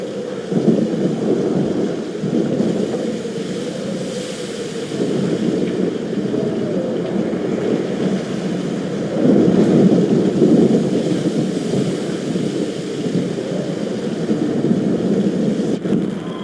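A thunderstorm in the Life Is Strange video game, a loud, continuous low roar of wind and rumbling thunder that swells and surges for the whole stretch, with no voices.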